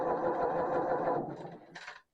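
A small sewing machine stitching a quilt seam of jelly roll squares, a close, steady whirring run that slows and stops, followed by a brief high mechanical click.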